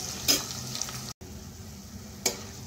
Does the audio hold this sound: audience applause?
no